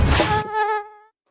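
A mosquito buzzes in a short, close, steady whine from a Hit insect-spray commercial, with a noisy burst at the start before the tone fades out.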